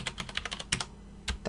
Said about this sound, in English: we can type in the username root and enter our password